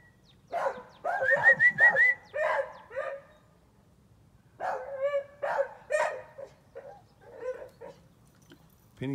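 A beagle barks and yelps in short bursts, some high and whiny, in two clusters with a pause between, fairly close with faint background hum.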